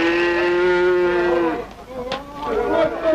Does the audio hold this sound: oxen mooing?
yes